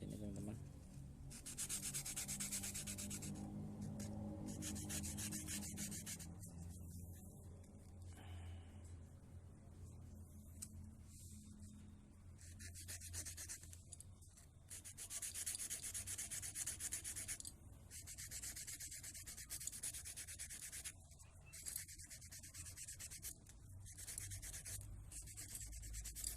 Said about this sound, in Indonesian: tinggal langsung cara bagian ini digosok supaya tajam dan halus ya